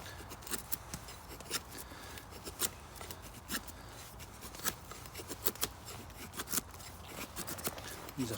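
A Swamp Rat Rodent 9 knife carves wood shavings from stuttery-grained wood, producing close, faint scraping with sharp irregular slicing clicks scattered throughout.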